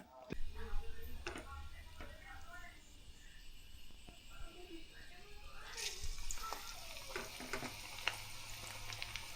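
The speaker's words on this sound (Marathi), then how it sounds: "तेवढ्यातच बेसन लागतं आणि तेवढ्यातच कांदा भाजी कुसकुशीत अशी कांदा भाजी बनवतोय मी" Onion bhaji made from sliced onion in gram flour batter sizzles softly in hot oil, with crackling and bubbling building louder toward the end and occasional clicks and taps from stirring.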